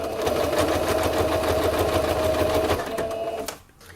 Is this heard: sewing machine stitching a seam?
yes